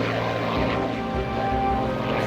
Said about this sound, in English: these tiny ultralight airplanes, they have as much power output as the engine of my truck.